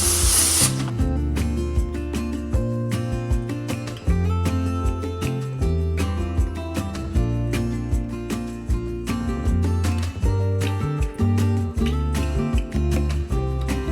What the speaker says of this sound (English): I'm gonna lightly spray.